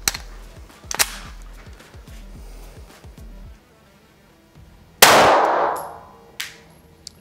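Canik TP9 Elite Combat pistol fired with a lightweight sound suppressor: a string of sharp metallic reports at first, then a louder blast with a decaying tail and a final shot, close and without talk.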